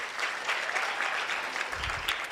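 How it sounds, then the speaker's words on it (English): A crowd at a breakfast event welcoming Miss South Africa 2022 in Polokwane claps continuously, a dense, even patter of many hands at moderate distance, with a brief low rumble late in the clip. "Let's clap hands for Rofiwa."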